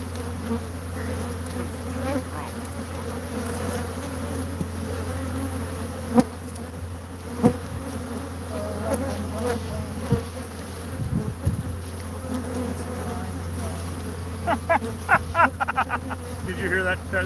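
A swarm of bees drones steadily inside a washer or dryer, a continuous close buzz with a low hum underneath, broken by a few sharp knocks and clicks and a flurry of tapping near the end.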